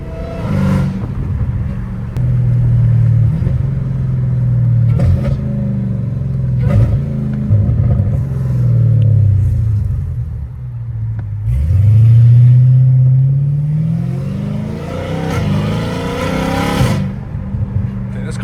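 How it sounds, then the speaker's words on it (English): Catless Dodge Hellcat Redeye rumbles loudly up close, with repeated revving surges and deep exhaust drone rising and falling over nearly twenty seconds. "this car makes way too much noise"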